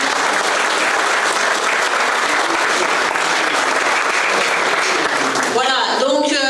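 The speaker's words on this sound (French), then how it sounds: "On peut les applaudir" Sustained, loud applause from an audience at an association's general assembly, dense and steady throughout, with a voice starting to speak over it near the end.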